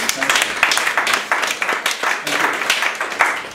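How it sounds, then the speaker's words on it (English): Seminar audience in London applauding, a dense, steady patter of many hands clapping close by for a few seconds with no one speaking over it. "can we give John a massive round of applause?"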